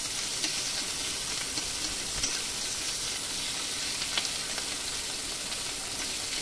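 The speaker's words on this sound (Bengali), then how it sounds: "লঙ্কা পেঁয়াজ দিয়ে ভাজতে হবে" Steady crackling sizzle of chopped onion and chilli frying in hot oil, continuous and close, with faint scraping stirs now and then.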